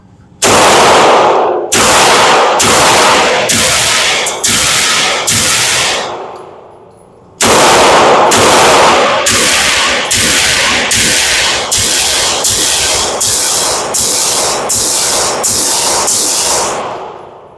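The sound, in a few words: Walther PDP pistol firing two 18-round magazines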